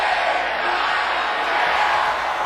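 A wrestling arena crowd in the WWE 2K23 video game cheers as a dense, steady roar, loud and continuous without distinct voices.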